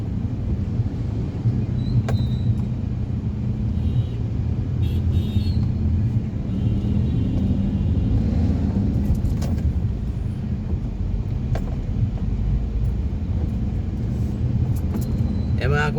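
Steady road traffic rumbles around a moving vehicle in congested, sunny daytime driving, with continuous low engine and tyre noise and occasional faint clicks, unbroken and fairly loud throughout.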